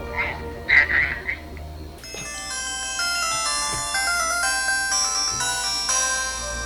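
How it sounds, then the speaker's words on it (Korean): A chirpy electronic notification tone from a cheap HW22 Pro smartwatch, sounding just after a phone call ends: a bright, steady tonal melody starts abruptly partway in and holds at even loudness to the end, after brief soft voice-like sounds. "전화를 끊자마자 나오는 이상한 알림에 그는 당황을 감출 수가 없었습니다"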